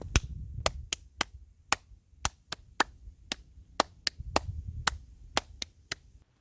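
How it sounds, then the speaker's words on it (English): Two interlocking streams of sharp percussive taps, three against two, repeat in an even cross-rhythm, close and clear with no talking. "This is what 3 against 2 sounds like."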